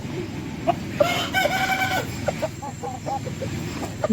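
Roosters and hens in a farm garden flock cluck and crow, with one drawn-out crow among scattered short clucks over a steady background bustle of many birds.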